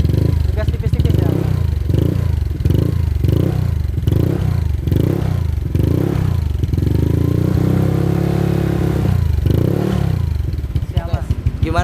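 A Honda Vario scooter with a bored-up engine and aftermarket exhaust is blipped lightly in repeated short revs, rising and falling in an even rhythm at close range. Each burst comes in turn with a quieter idle between, under ongoing talk.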